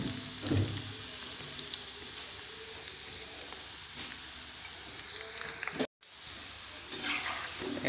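Food fries slowly in a pan over low heat, a soft, steady crackling sizzle close by with occasional stirring taps and a brief cut to near silence midway, and no speech.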